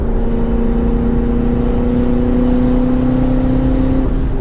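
A turbocharged Mazda Miata engine drones steadily up close, with a rising turbo whine and whistle building over the loud, continuous engine note throughout.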